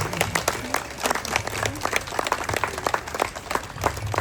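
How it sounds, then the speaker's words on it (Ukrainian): Audience applause at a church gathering in Caserta with a Ukrainian bishop, a steady patter of many hands clapping loudly and continuously, with scattered sharper claps standing out. "Плескайте, плескайте, голосно"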